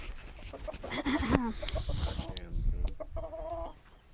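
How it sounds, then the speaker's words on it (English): Chickens cluck and squawk nearby in a busy, overlapping jumble, with a few higher calls rising above the background noise. "Are you guys ready to listen to some hot jams by the chickens?"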